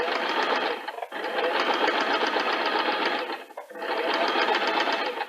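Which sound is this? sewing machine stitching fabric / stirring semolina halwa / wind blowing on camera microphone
sewing machine stitching fabric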